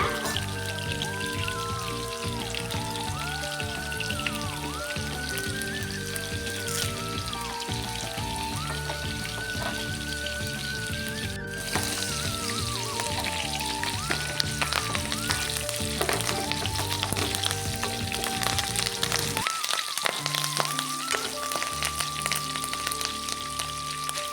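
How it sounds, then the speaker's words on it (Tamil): Onions and curry leaves fry in oil for a brinjal dish, a steady crackling sizzle with scattered pops that runs throughout beneath prominent melodic background music. "வெங்காயம் நல்லா வணங்குற வரைக்கும் நல்லா வதக்கிக்கோங்க."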